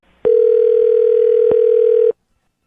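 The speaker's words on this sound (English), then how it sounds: "I'm going to dial him right now, get him on the phone" A steady, loud telephone dial tone plays alone for about two seconds, starting and stopping abruptly, with a faint click partway through.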